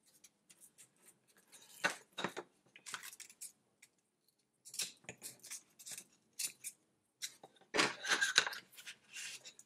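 Double-sided adhesive tape being cut and pressed onto a wooden batten while building a spinning-top launcher: quiet, close, intermittent snips and peeling rasps in short bursts separated by silence.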